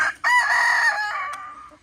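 Rooster crowing loudly and close in a chicken run with hens, one long drawn-out crow rising then trailing off, with no talk over it.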